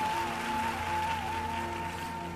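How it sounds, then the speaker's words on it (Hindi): A crowd at a Bageshwar Dham religious discourse gathering claps in a steady, dense wash of applause, with a faint tonal hum running underneath throughout. "एक बार ताली बजाओ"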